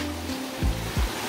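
Mountain valley stream high on Gamaksan in Paju, South Korea, flowing steadily among rocks along a stone hiking trail; a continuous broadband rush of water, fairly near, with low thumps from footsteps or handling breaking through.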